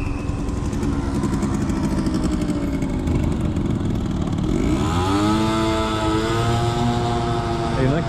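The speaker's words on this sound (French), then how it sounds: "le scooter qui utilise la voie bus" A motor scooter rides through a Paris bus lane, its engine buzzing steadily and close, then shifting in pitch as it passes and moves on, with street noise around.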